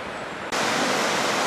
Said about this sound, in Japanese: 川の音が聞こえてきました。